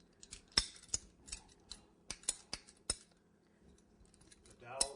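A wooden dowel support for a decorated cake is cut with a handheld cutter, giving a series of sharp, quiet clicks and snips at irregular intervals with soft handling sounds between them.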